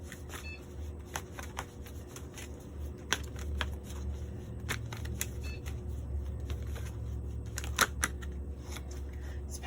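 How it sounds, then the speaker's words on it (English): Playing cards being shuffled close up in a series of sharp riffling bursts and flicks over a low steady hum, with no one speaking. "Man, shuffling these cards is crazy."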